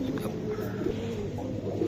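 Pigeons coo softly and continuously in low murmuring tones, close by in a pigeon-selling setting, with faint background noise.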